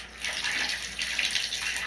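A shower runs steadily while a dog is bathed, water hissing and splashing nearby with slight fluctuations as the stream shifts.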